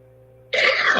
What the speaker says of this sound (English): Someday I'm going to cough up a lot.